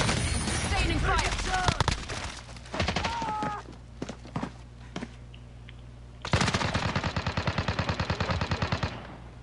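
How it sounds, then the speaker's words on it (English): Sustained automatic gunfire from a first-person shooter, with rapid bursts and scattered single shots, then a long dense stretch of rattling fire near the end, loud and close, with voices talking briefly under it. "Sustaining fire."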